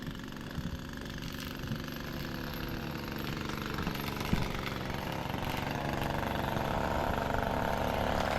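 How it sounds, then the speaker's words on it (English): A weed whacker drones steadily as it cuts roadside weeds in Maine, a continuous buzzing engine tone heard from a short distance, growing slightly louder toward the end with no talk. "Out here whacking our weeds"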